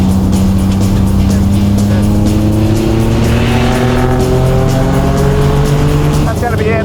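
A modified Nissan 350Z is driven hard around a race track, its engine roaring loud and sustained with rising revs through the gears, close and continuous throughout.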